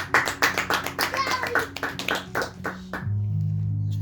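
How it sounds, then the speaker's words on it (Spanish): Congregation clapping in a church service, rhythmic and evenly paced beats over sustained music, then the claps stop and the music carries on alone. "Dale un fuerte aplauso para el Señor."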